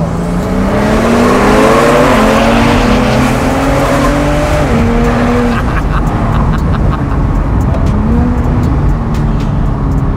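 A Porsche 911 Turbo S Cabriolet of the 997.2 generation pulls hard from close range, its engine note rising steadily through the gears, loud and continuous for the whole stretch, with no talk over it.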